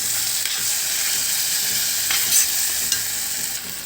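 A spoon stirs tamarind curry through a sizzling pan, steady frying hiss with soft scraping strokes every second or so, close and fairly loud, no voices.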